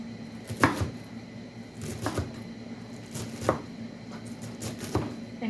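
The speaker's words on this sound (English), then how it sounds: "I'm just going to chop it up more so it's more bite-sized pieces" Knife chopping cabbage strips into bite-sized pieces for coleslaw on a cutting board, four distinct crisp chops spaced about a second and a half apart, close and fairly quiet, with no talking.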